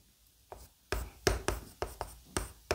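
A pen or brush scratches out Chinese characters by hand during a lesson, a series of sharp strokes and taps in uneven rhythm, close and distinct against near silence.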